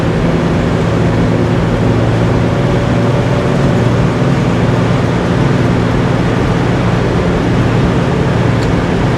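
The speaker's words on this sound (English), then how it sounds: "Exhaust has a really good exhaust sound to it" A 1967 Plymouth GTX under way gives a steady, loud, low exhaust drone with constant road and wind rumble. The level holds even throughout, with no talking.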